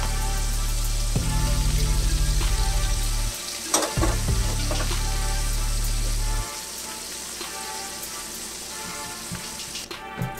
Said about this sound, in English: I'm gonna go ahead and drop a couple of more knobs of butter around the sides